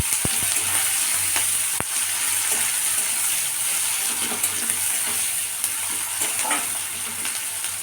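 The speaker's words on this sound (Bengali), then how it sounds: "এটা একটু ভেজে নেব" Chopped onion and tomato fry with cumin in a pan, giving a loud, continuous close sizzle with a few soft clicks of a utensil and no voices.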